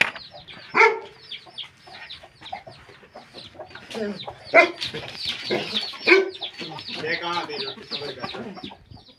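Chickens cluck and squawk in short bursts close by, with faint background noise between the calls.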